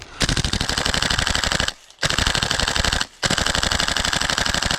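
Rapid full-auto bursts from an airsoft gas blowback rifle fed by an HPA drum magazine, loud and close, three long strings of fire separated by two brief pauses.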